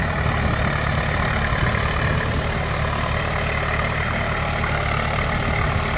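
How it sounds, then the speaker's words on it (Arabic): An Al Nasr 60 tractor, model 79, idles nearby, its old engine giving a steady, loud, low rumbling drone that stays constant throughout without any change in speed. "جرار الحاج حجاج"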